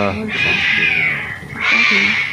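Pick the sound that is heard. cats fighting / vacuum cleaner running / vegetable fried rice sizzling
cats fighting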